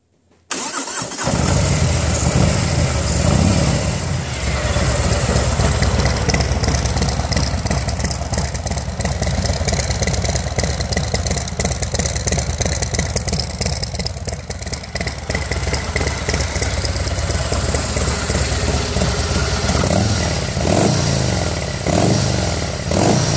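A 2018 Harley-Davidson M8 Street Glide Special with a Stage 3 114 engine and hi-flow exhaust starts up after a brief silence, then idles loudly and steadily for over twenty seconds with a deep, uneven throb.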